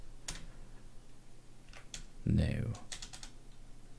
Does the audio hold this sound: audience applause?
no